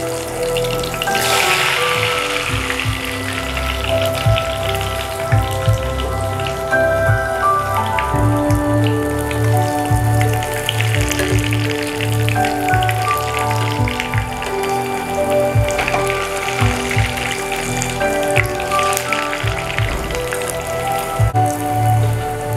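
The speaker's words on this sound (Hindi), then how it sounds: "ये ऑयल ने अच्छे से गर्म हो चुका है, अब हम डालेंगे इसको, डीप फ्राई करेंगे।" Breadcrumb-coated egg kebabs deep frying in hot oil, heard close up as a steady, dense crackling and bubbling sizzle with scattered sharper pops, continuing without a break.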